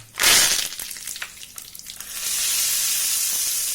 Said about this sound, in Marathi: अशी वरतून फोडणी देऊन घ्यायची